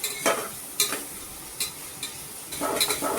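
Onion frying with dried ginger and garlic is stirred in a pan, several distinct scraping strokes over a soft sizzle, close and fairly quiet.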